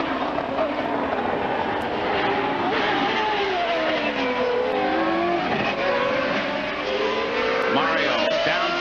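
IndyCar race car engines roar and whine as they pass, pitch sweeping up and down with gear changes, with several cars overlapping in a constant loud drone.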